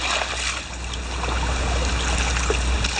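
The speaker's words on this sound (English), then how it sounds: "pour water in it." Creek water poured into a gold pan, a continuous loud rushing trickle over a steady outdoor stream background, with no talk.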